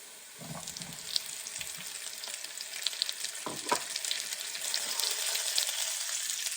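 Diced potato sizzles and crackles in a hot pan for butternut squash soup, a steady close frying hiss with a few stirring bumps and scrapes.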